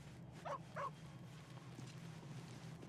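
Scratch, a dog in Baldur's Gate 3, gives two quick, faint whimpering yips close together, then only quiet background ambience follows.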